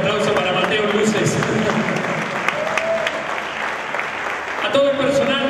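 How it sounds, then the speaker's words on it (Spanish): A theatre audience at a tribute concert applauds steadily and loudly in a municipal theatre, with a voice and some cheering audible over the clapping near the end. "Fuerte un aplauso para ellos."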